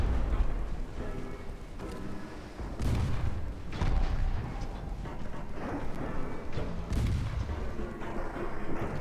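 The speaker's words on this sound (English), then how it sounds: "Defensive torpedo going out from Stargazer." Naval war game battle where a ship fires a defensive torpedo, amid repeated heavy booms and rumbling gunfire blasts at close range.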